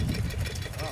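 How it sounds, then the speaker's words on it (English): A small antique gas engine drives a farm water pump at an antique machinery show, chugging steadily in a low, continuous idle with people talking over it. "I got a small version of a gas engine and a water pump"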